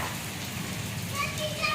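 Heavy rain falls steadily during the first rain of the season, making a constant broadband hiss while children's voices and playful chatter carry on underneath.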